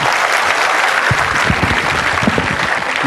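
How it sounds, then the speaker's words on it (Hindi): A live audience at a large motivational seminar breaks into loud, sustained applause, dense clapping filling the whole stretch without a pause. "तो इनके लिए एक बार ताली दो ना।"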